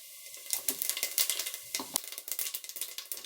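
Spices, including fennel seeds, crackle and sizzle in hot oil, a steady busy fizz with sharp pops and spatters throughout, close by and fairly quiet.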